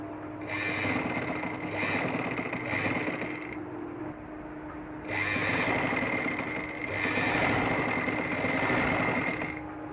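Sewing machine stitching the sleeve of an umbrella-cut baby frock, running in steady close bursts with a pause near the middle, whirring continuously, no voices.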